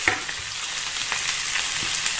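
Boiled, peeled and hand-broken potatoes fry in a pan, a steady close sizzle with scraping stirs, and no one speaks.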